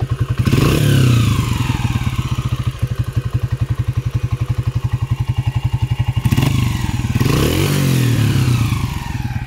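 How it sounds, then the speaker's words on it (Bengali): Japanese Honda CG125 motorcycle engine idling after a full engine repair and setting; a close, steady single-cylinder putter with a fast, even beat, with brief throttle blips near the start and again about two-thirds through. "তো ইঞ্জিনের সাউন্ড কিন্তু এই পর্যায়ে চলে আসছে।"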